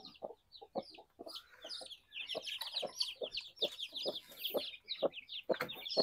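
A mother hen clucks steadily beside her eleven newly hatched chicks at a nest, with soft repeated clucks low and high-pitched chick peeps overlapping throughout, close and continuous.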